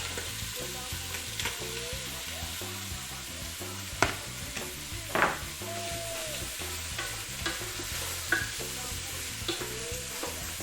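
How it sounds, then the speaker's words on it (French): Onions frying in a hot pan, a steady crackling sizzle with repeated stirring scrapes and a few louder clatters of utensil against pan, heard alone without speech. "alors là, ça commence à griller. Du coup, balançage des oignons"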